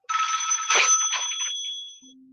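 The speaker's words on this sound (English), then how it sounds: "Phone rings and Polly picks it up." A telephone rings once in a single bright, sustained burst lasting about two seconds, close and loud, then falls quiet.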